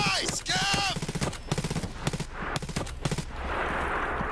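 Gunfire in a fan-made Tarkov movie, a rapid string of sharp shots cut by short pauses and followed by a steady noisy wash, with a voice heard at the start.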